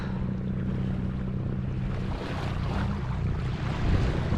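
A steady engine drone hums beneath wind and rushing water as a sailboat motors along against the tidal current near Portland Bill in the English Channel, continuous and fairly close.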